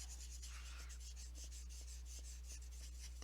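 Soft, steady rubbing strokes of an alcohol marker's chisel nib going back and forth over paper, repeating in a regular rhythm over a low constant hum.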